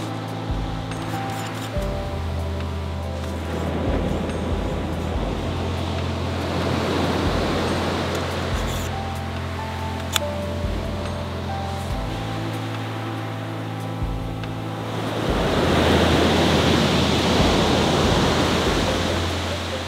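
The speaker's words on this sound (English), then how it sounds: "The beach is really steep, so the waves are actually quite severe and quite loud" Loud surf crashes onto the steep shingle beach at Durdle Door, building in a rushing roar that surges and recedes, with a heavier wave breaking near the end; no one speaks.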